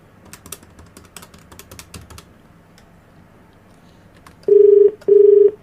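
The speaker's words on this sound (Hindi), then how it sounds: "फ़ोन मिला दूं।" Rapid taps like buttons being pressed on a phone, then a pause and two long, loud ringing tones in a row.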